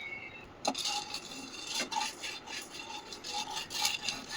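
Popcorn kernels with butter and salt are stirred in a pan, producing soft gritty scraping strokes in an uneven rhythm, close and fairly quiet, with occasional light clinks of the spoon on the pan.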